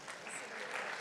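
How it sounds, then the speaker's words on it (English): Audience applause for a bronze medalist at a programming contest closing ceremony, a steady broadband clatter of clapping hands that fills the whole second, with a voice faintly present underneath. "a big applause for our bronze medalist. Sylvia."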